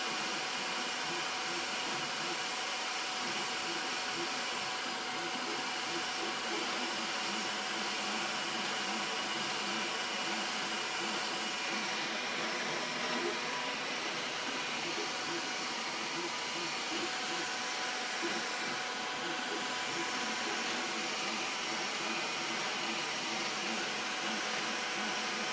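A Creality K1 or Bambu X1C 3D printer runs with its lid open, giving a steady, continuous mechanical whir and fan hiss that holds level throughout without pauses.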